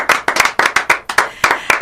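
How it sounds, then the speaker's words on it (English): Brisk, loud clapping heard close by, a quick run of sharp, evenly spaced claps, like a small audience giving a round of applause. "I'd like everybody here to give David a round of applause for what he's done for this community."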